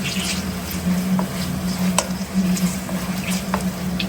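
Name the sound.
frying mutton biryani ingredients in oil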